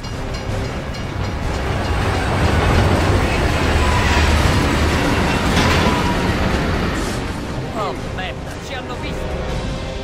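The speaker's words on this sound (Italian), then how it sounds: "C'è un treno in arrivo dall'altra parte!" A train approaching in the Gears of War 3 video game, a loud rumbling clatter of wheels on rails that swells and holds, with faint squeals near the end and voices talking beneath the noise.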